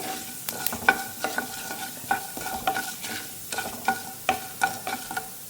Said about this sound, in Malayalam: ഇതൊന്ന് ചെറുതായിട്ടൊരു ഇളം ഗോൾഡൻ നിറമാവുന്നത് വരെ ഒന്ന് ഇളക്കി കൊടുക്കാം.